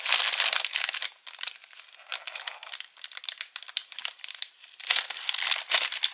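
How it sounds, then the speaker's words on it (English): Plastic packaging crinkles and crackles close up in irregular bursts of sharp, papery rustling throughout a needle-felting craft session, loud and uninterrupted by speech. "the crinkling's so loud"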